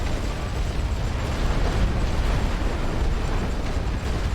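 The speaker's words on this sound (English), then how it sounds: "Drop some artillery." Artillery explosions in the World War I strategy game The Great War: Western Front at Verdun, a continuous heavy rumbling roar of blasts with no clear breaks, steady and loud.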